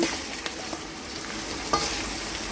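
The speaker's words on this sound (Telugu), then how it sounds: "ములక్కాయలు నూనెలో వేస్తున్నాను ఉల్లిపాయలతో పాటు. ఉల్లిపాయలు వేగినాక ములక్కాయలు వేసాను." Drumsticks and onions frying in hot oil in a home kitchen, a steady soft sizzle with a few light stirring knocks, close and fairly quiet, no voices.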